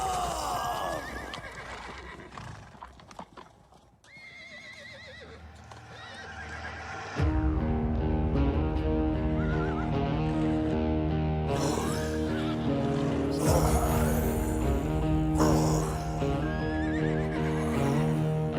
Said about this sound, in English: I love that horse sound.